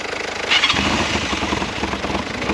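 A 250cc quad bike engine cranks and catches, then settles into a loud, steady rumbling idle close by.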